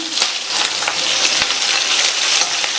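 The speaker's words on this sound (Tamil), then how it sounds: "இந்த வெங்காயம் வதங்கி லைட் ப்ரௌனாக வர வரைக்கும் வதக்கிக்கலாம்" Two medium onions sliced lengthwise fry in a pan with three dried red chillies and curry leaves, giving a loud, close, continuous sizzle with occasional stirring taps.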